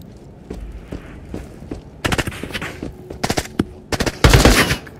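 Enemy gunfire in the video game Into The Radius: loud bursts of automatic shots arriving in clusters, with sharp cracks and heavy thumps building to a dense, booming volley near the end.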